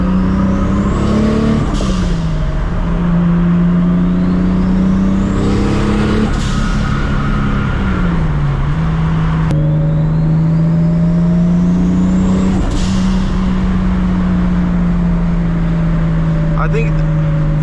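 Toyota MKIV Supra with a new turbo setup, engine droning steadily at close range, with gear changes and turbo whooshes rising and falling between shifts, while a person talks over it.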